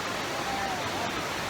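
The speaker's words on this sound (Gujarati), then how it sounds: "જોઈ રહ્યા તો કેટલું પાણી ફોર્સથી આવી રહ્યું છે." Rushing water pours with force at Hathni Mata waterfall near Vadodara, a steady, loud, broadband roar filling the whole moment with no breaks.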